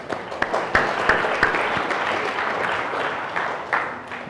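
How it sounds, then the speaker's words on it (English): A conference audience applauds the event organizers before a tech talk, a moderate scattering of clapping with several sharper individual claps standing out, fading slightly toward the end. "round of applause for them"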